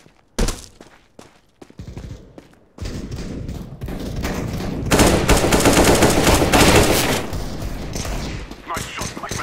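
Rapid automatic gunfire from a Counter-Strike: Global Offensive match, loud and close, with a few sharp isolated shots first, then sustained bursts rattling on for several seconds before tapering off into scattered reports.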